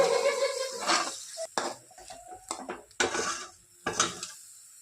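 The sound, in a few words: spices with turmeric and salt being sautéed in a pan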